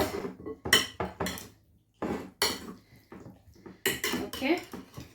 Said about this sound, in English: So I'll just mix with this until everything is evenly mixed.